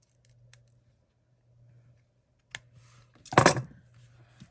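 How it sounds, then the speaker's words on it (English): Scissors cut through decorative paper scraps while a small dollar-store composition book is made over into a journal, a short close, crisp crunch of snipping after a few faint handling clicks, with no talking. "And might as well cut these while I have the scissors out"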